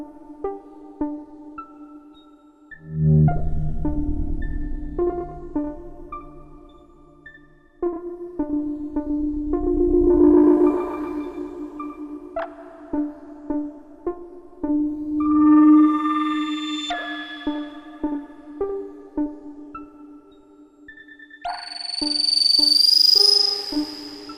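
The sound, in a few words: Erica Synths modular delay patch modulated by two sine LFOs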